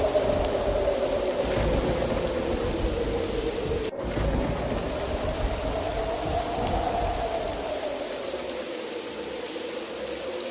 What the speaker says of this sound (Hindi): आसमान में बिजली के साथ तेज तूफानी बारिश शुरू हो जाती है